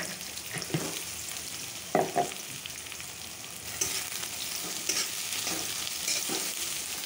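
Onions frying in a pan for ilish paturi, a steady close sizzle with a few sharp stirring scrapes and clicks, no one talking.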